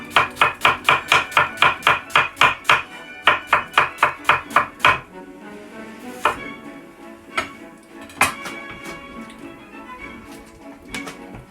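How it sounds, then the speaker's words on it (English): Knife slices finely through a white onion on a board in quick, even chops, a fast regular run followed by slower scattered cuts and light clatter, close and crisp with no talk. "finely slice this onion"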